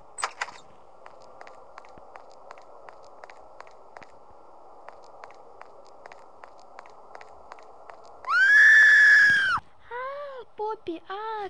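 A loud, sustained scream erupts near the end, followed by a few shorter cries, over faint footsteps and game ambience while playing the horror video game Poppy Playtime Chapter 2.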